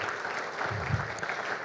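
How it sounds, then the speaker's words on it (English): An audience at a NewCrafts 2019 conference talk claps steadily, a brief burst of dense applause filling the room at moderate distance. "Let's give a round of applause for all the volunteers and everybody helping out"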